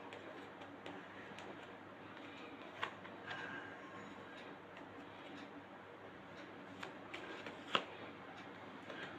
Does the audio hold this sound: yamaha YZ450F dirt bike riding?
no